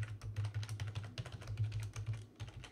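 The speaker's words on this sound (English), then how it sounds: "You can actually hear all my keys" Password being typed on a computer keyboard, a steady run of quick, close key clicks with brief pauses, no talking.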